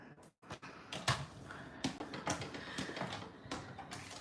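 A scoring blade on a paper trimmer runs across paper to score a fold line for a gift card holder, giving faint, close clicks and short scraping strokes at irregular intervals in a quiet room.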